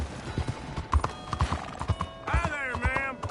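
Horse hooves clip-clop in a steady rhythm through the city streets of Saint-Denis in Red Dead Redemption 2, with a horse whinnying near the end and townspeople talking over the scene.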